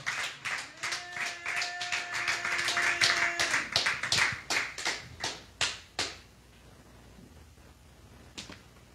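A church congregation claps in a quick, steady rhythm of sharp hand strikes over a sustained tone. The clapping thins into scattered separate claps, then fades, with one last clap near the end.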